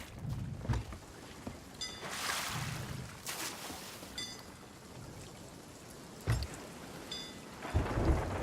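A thunderstorm in a sailing video game, with steady rain and wind broken by several rumbling thunder bursts, some close and loud, others softer; no talk.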